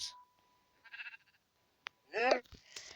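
A sheep gives a loud bleat, preceded by a few quieter bleats and brief noises, with pauses between.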